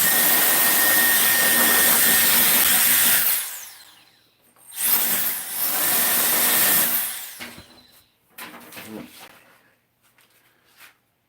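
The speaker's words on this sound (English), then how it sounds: "Here's my blower." An air blower runs loud and steady in a woodturning workshop, cuts out, then roars again in a second burst before a few shorter, weaker blasts.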